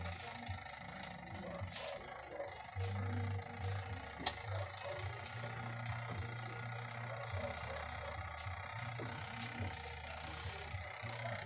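A Micromatic washing machine timer turning while its motor fails to start: quiet, steady mechanical ticking and faint clicks over a low hum, with one sharper click partway through.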